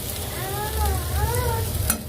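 Food being stirred in a frying pan in a home kitchen, slightly boiled rather than properly fried, gives a steady soft sizzle with scraping stir strokes throughout, close and alone, with no talk.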